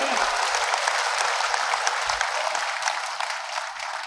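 A seated audience at a public event with a government minister present applauds loudly on request, a dense sustained burst of clapping from many hands that slowly tapers toward the end.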